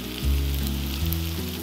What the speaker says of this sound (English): Saute the potato for 2 to 3 minutes.